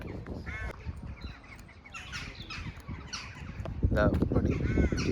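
Several crows caw in short harsh bursts at a moderate distance in Bakewell, England, overlapping with people talking nearby.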